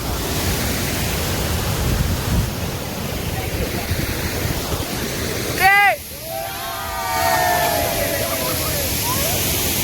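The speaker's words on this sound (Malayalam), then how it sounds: "ഇതാണ് നമ്മൾ വന്ന വെള്ളച്ചാട്ടം." A waterfall in Wayanad roars as a broad, steady rush of falling water close by, with people's voices and an odd swooping tone briefly breaking through midway.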